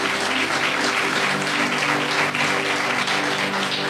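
Church congregation bursts into dense, steady applause, a loud wash of many hands clapping at once that holds evenly for about four seconds with no voices on top.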